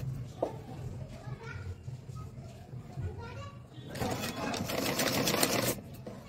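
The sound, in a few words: sewing machine stitching fabric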